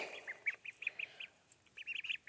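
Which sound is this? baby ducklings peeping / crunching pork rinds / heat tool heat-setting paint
baby ducklings peeping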